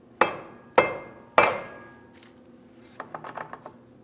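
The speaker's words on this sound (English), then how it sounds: "Just a couple light taps here should help break it free using a rubber mallet" Three sharp, loud strikes of a rubber mallet on the rear driveshaft of a 2007-2014 Ford Edge 3.5L V6, each ringing briefly, then a quick cluster of lighter metallic clinks.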